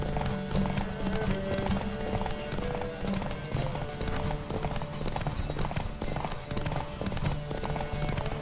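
Rhythmic hoofbeats of a galloping horse in The Witcher 3, fast and continuous with occasional snorts, under faint game music and a brief voice.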